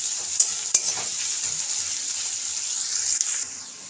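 Onions sizzle steadily in a hot pan while being stirred for a spicy lemon chicken fry, the hiss constant with a few sharp scrapes and clinks of the spatula.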